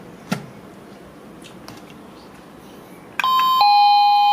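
A cheap wireless doorbell rings loudly and close with a two-tone electronic ding-dong chime after a few faint clicks and handling sounds.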